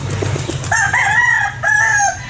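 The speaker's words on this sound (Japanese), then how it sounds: "鶏がうるさいしね" A rooster crows loudly and close by at a school site on Palawan island in the Philippines, after a few soft clucks from chickens, with a long drawn-out call over a steady low hum.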